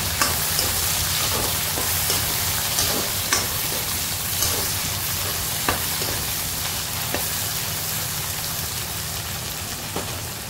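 Sliced potatoes and onion fry in hot oil with a loud, continuous sizzle and crackle, marked by occasional scraping stirs of a spatula close by.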